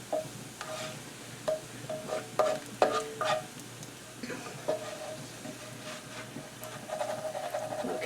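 Bacon sizzles and spits in a frying pan on a low-turned burner while it cooks for German potato salad, with scattered pops and scraping stirs over a steady near crackle.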